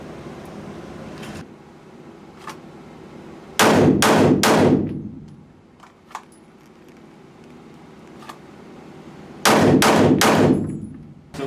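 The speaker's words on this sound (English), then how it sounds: "We're going to push it back out to 7 and do another 3-shot string from holster" Smith & Wesson M&P 2.0 9mm pistol fired in two quick three-shot strings from the holster at 7 yards on an indoor range, loud sharp reports with ringing decay, a quiet pause with faint handling between the strings.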